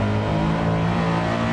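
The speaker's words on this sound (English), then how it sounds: "the transmission and the engine are still running strong, still sounds great" Honda Integra Type R engine in the Assetto Corsa racing game, a loud, steady, high-revving drone held at constant pitch throughout.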